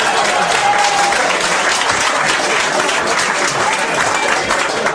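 Loud, sustained applause from a comedy club audience for stand-up comedian Rich Voss, dense continuous clapping filling the room with a faint voice underneath.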